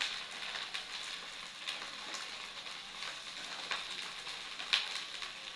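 Ground spices with turmeric and coriander powder and salt frying in a pan, a soft continuous sizzle with light crackles and a sharper pop near the end, fairly quiet and without talk.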